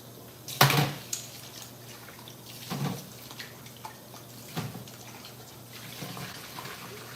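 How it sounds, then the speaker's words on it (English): Salted fennel is rinsed under running water in a colander in a home kitchen. Intermittent soft splashes and trickles sound against a quiet background, with no talk. "I wanna rinse this and get rid of all the salt and all the water"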